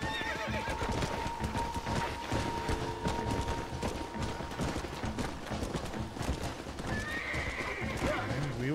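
Horse in Red Dead Redemption galloping with rapid clip-clop hoofbeats, a clear whinny, and faint mechanical rattles in a busy, close in-game mix without speech.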